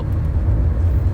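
A car moving quickly across a big overpass, its steady low road rumble and engine drone filling the short stretch close and continuous without a break.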